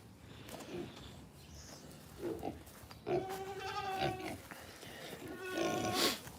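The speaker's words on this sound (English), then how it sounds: "All right, piggies, are we hungry?" Farm pigs at feeding time call out in a few short, strained bursts close by, with quieter shuffling and rustling between the calls.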